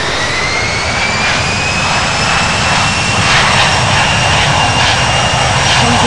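A JetBlue Airbus A321-200 roars through its takeoff roll at Punta Cana International Airport, the jet engines loud and steady with a rising whine throughout and no talk.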